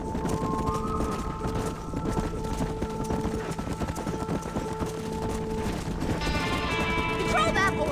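Horse hooves clip-clop steadily while herding cattle in the Red Dead Redemption video game, a dense, continuous patter mixed with sustained musical tones and a busier burst of sound near the end.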